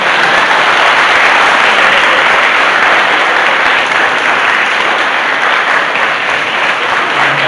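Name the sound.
audience applause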